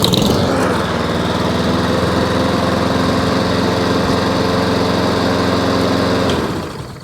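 A Honda Izzy lawn mower engine fires up and keeps running at a steady, loud, close drone before it tails off at the very end.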